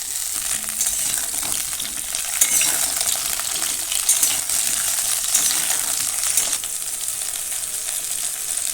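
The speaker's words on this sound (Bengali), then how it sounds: "আলু আর ফুলকপি হালকা ভাজা হয়ে গেছে" Cauliflower florets and potatoes fry in a wok with a dense, continuous close sizzle, punctuated by scraping stirs and small metallic clinks, no voices.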